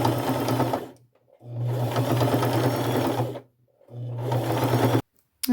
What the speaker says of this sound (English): I'm going to use my largest zigzag stitch and gold colored thread and just stay close to the bottom edge here and get that sewn on